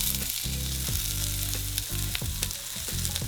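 Peppers sizzle loudly in a very hot pan, a steady close frying hiss broken by scraping stirs, with no talking.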